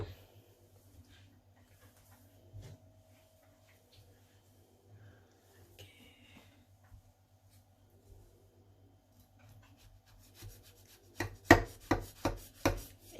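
A knife cuts through baked beef lasagna and scrapes the dish as a serving is cut. Quiet scraping comes first, then a quick run of sharp, close cuts near the end, with faint room sounds in between.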